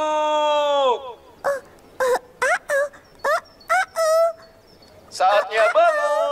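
A rooster crows in a children's cartoon: one long, falling crow, then a string of short, clipped bursts and a final rising call, close and clear.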